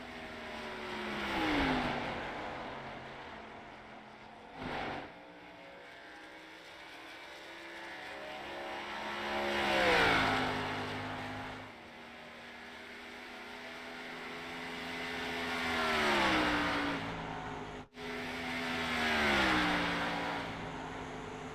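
Race cars in a sim racing video game, engines swelling loudly as several cars sweep past one after another with falling pitch, then fading between passes.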